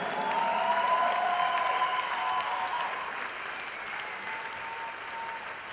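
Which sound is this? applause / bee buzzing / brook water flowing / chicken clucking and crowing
applause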